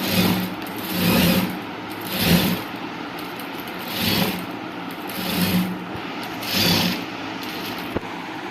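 A domestic sewing machine stitching the front panel of a top cut from a nightie runs in repeated short bursts of whirring, about six runs with brief pauses between them, close and fairly loud, with no voices.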